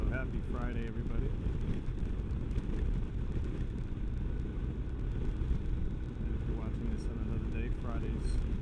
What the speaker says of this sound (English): So it's blowing wind right into the helmet.